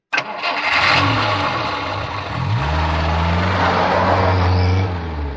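A car engine cranks and catches, then settles into a steady, rising hum as the car revs and pulls away, loud and close with no voices.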